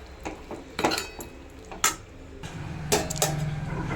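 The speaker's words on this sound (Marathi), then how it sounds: "असं ताट झाकून ठेवायचं म्हणजे शिजत राहील" A metal plate set down as a lid over bitter gourd cooking in a pan, several sharp metallic clinks and clatters spread over a few seconds, followed by a low steady sizzle of cooking.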